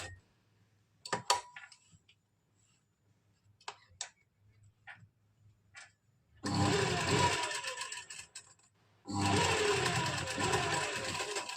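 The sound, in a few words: sewing machine stitching with single foot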